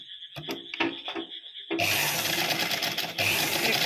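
A sewing machine stitches over fabric frills in short bursts at first, then runs in a loud, steady mechanical whir, heard up close with no speech.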